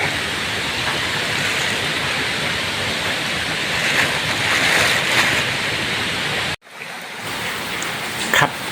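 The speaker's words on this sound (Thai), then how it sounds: "นี่คือน้ำไหลลงมาจากภูเขานะพี่น้องนะ" Rainwater pours down from a mountain in forested hills, a steady loud rushing flow like a torrent, continuous and close, cutting off briefly near the end before resuming.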